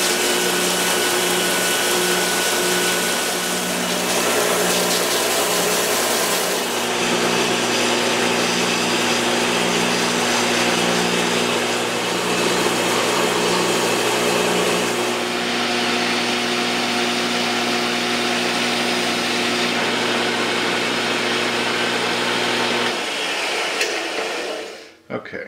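A power sander works steadily on a wooden wand with a faceted, angular shape, a loud continuous motor whine with a pulsing hum that runs almost the whole time and then cuts off near the end.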